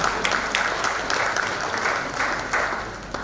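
Audience applause at a drug prevention, treatment and care training session, a steady roomful of clapping hands sustained throughout, fairly loud and with no voices over it.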